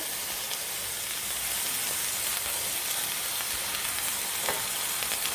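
Vegetables sautéing for taco filling in a hot pan, a steady broadband sizzle with faint stirring scrapes, close and continuous with no talking.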